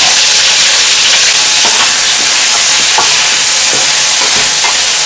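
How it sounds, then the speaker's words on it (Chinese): Scallions, ginger and garlic fry in hot oil in a wok, giving a loud, dense, continuous sizzle with occasional soft stirring clicks and scrapes, close up, no talking. "我们把葱姜蒜一起放下去"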